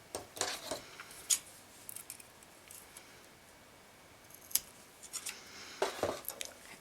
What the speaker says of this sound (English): And then just cut off your thread.